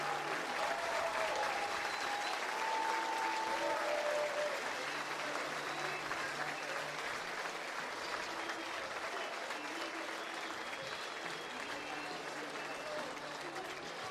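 Stadium fans at a Troy vs Little Rock college baseball game give a standing ovation to departing pitcher Tommy Egan, sustained broad clapping and cheering that carries on for many seconds with scattered whistles and shouts mixed in.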